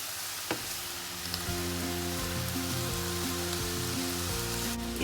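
Spaghetti and drained mung bean sprouts being stirred in a hot pan, a steady close sizzle and crackle of frying running throughout with soft scraping movements and a low hum of music beneath.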